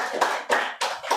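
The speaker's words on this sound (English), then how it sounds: "Another round of applause for Sarah and all of our readers" A small audience at a literary reading of Los Angeles Institute for the Humanities fellows claps for Sarah and the readers, with a few distinct bursts of hand claps rising and fading close by, fairly quiet.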